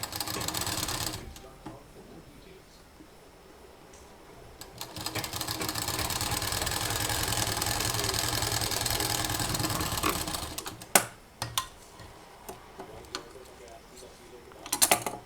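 A sewing machine stitches a frill made from leftover saree border onto a handmade single bed cover. Its motor whirs in a loud, steady run lasting several seconds, with short starts, stops and mechanical clicks around it.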